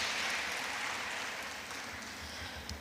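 Audience applause at a Nigerian Bar Association women's forum during the 2025 annual conference: a steady, quiet wash of clapping from a crowd that holds evenly and eases slightly toward the end.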